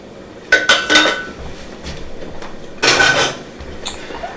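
Dishes clinking in a kitchen as food is put into a little bowl: two bursts of bright ceramic and metal clatter, a few quick knocks, then softer taps, close and alone without talk.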